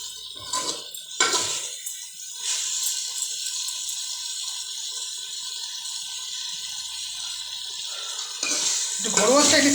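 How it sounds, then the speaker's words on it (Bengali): Half-boiled chicken sautéing for a home-style chicken biryani with Gobindobhog rice, a steady sizzle with occasional clinks of a utensil against the pan, running continuously and fairly close throughout. "ভালো করে কষানো হবে"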